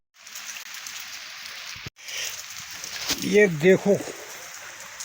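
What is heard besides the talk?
rain falling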